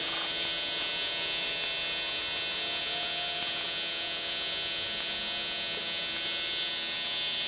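An electric motor from a dual-pentagon 550 motor body runs under test, a steady high-pitched electrical whine and hum that stays constant and close for the whole stretch.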